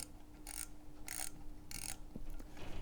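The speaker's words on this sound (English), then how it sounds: "So if we cock the shutter by this control here, just move that around to there, and then of course we would wind the film." A camera is handled up close as its shutter is cocked and the film is wound. Three evenly spaced, crisp ratcheting bursts are followed by a couple of small clicks, all quiet against a faint background hum.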